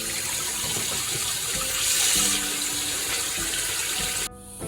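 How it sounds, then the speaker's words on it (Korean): Tap water runs steadily over red sea bream fillets in a sink, a close, continuous rushing gush that swells slightly, then cuts off abruptly just before the end. "여기서 물로 한번 헹궈 주시면 됩니다."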